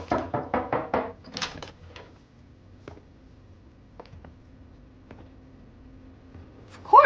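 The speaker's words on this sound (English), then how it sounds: "someone knocked on the door" A hotel room door takes several quick knocks, a brisk burst of about five raps, then a few isolated taps in a quiet room and a faint voice at the end.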